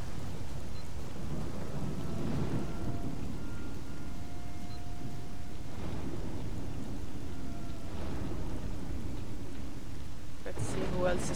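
Steady rain falls throughout with low rumbling thunder rolling in the background, a continuous wet wash near and loud, broken by a few brief louder bursts toward the end.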